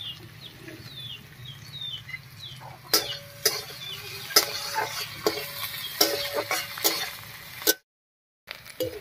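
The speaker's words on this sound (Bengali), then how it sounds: "পেঁয়াজ, রসুন, লঙ্কা সব কিছু ভাজা হয়ে লাল লাল হয়ে গেছে।" Onion, garlic and chili frying in a pan for a moong dal dish with drumstick leaves, a soft steady sizzle broken by several sharp stirring clinks against the pan, with faint background birdsong and no talk.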